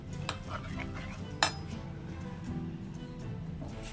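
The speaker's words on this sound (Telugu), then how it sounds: "ఒకసారి మొత్తం అంతా కలిసేలాగా చక్కగా కలిపేసుకోవాలి" A spoon stirs a ponnaganti leaf dal mixture with chilli powder and asafoetida in a steel pot, giving soft scraping and a single sharp metallic clink, steady and close with no talking.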